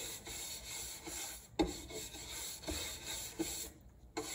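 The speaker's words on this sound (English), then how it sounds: "And I also wax these sides because sometimes they'll come in contact with everything." Wax is rubbed along the wooden sides of a secretary desk, giving quiet, dry scraping strokes in an irregular rhythm, with a couple of sharper knocks, close and faint.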